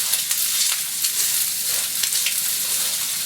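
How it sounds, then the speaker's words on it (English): Fried pasta with green onions sizzling in a pan, a steady close hiss of frying with faint stirring scrapes running throughout. "So now I'm going to add in the green onions. I'm just going to mix those in."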